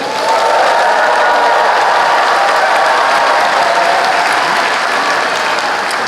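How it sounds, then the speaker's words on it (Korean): A large crowd claps loudly and continuously at a political rally in the Yeongnam region, a thick, unbroken wash of applause holding steady from start to finish. "여러분 큰 박수 부탁드립니다."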